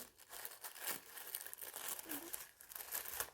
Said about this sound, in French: Allez, c'est parti, on déballe.